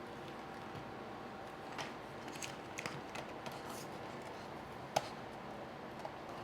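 Scattered quiet snips and clicks of scissors cutting, faint and irregular, ending in one sharper snap against a low background hum.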